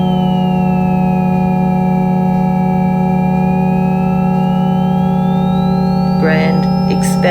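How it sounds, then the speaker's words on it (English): A recorded frequency of the planet Jupiter plays as a steady, loud synthetic hum of stacked sustained tones with a slowly sweeping high whistle, and brief crackling bursts appear near the end. "Jupiter's frequency has been recorded,"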